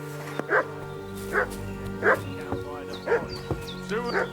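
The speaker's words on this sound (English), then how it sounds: "What's that dog making such a fuss about?" Dog barking in Kingdom Come: Deliverance 2, about five evenly spaced woofs close by against a low drone, with someone speaking between barks.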